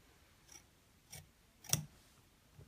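Duck bill scissors cut through three layers of chenille fabric, giving three short, crisp snips at roughly half-second gaps, each sharper and louder than the last, in an otherwise quiet room.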